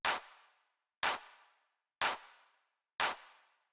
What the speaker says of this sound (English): distorted, raw-sounding like drum machine claps